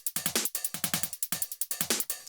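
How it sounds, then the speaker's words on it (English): A psytrance drum loop plays a crisp pattern of closed and open hi-hats with snappy snare hits, a fast, even, repeating rhythm of sharp bright ticks and hisses with nothing else underneath. "Closed hi-hat, open hi-hat,"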